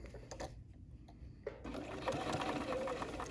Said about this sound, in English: I'm just stitching my little ear close to the edge